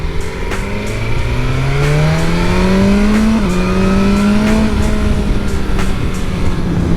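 A 2022 BMW S1000R sport motorcycle engine revs hard and climbs in pitch through the gears, loud and close, with short dips at each shift.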